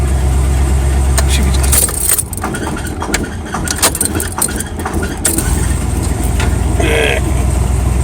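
A 1978 El Camino with vapor lock trouble runs at a high idle, making a steady low rumble that drops back briefly amid clattering and jangling close by, then settles into the even drone again.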